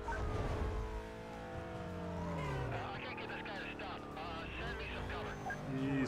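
Car engine revving and accelerating in the racing game Need For Speed Most Wanted, with rising and falling engine tones, under continuous talk.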